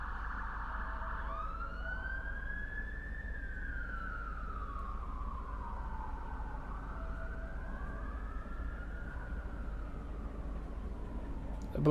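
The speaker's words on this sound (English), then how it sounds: "Obligatory police siren." Wailing police siren in a Train Sim 2021 scene, its pitch sweeping slowly up and down over a steady low rumble, moderately loud and continuous throughout with no talk.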